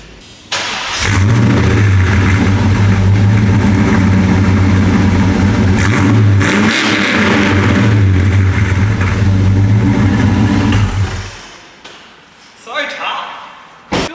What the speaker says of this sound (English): You can't beat the sound of these engines.